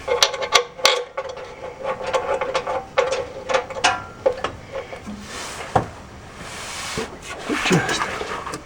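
A ratchet wrench clicks in short bursts while transmission bolts are tightened on a Continental Mark III, with metallic taps and clanks between the bursts and a voice speaking at times.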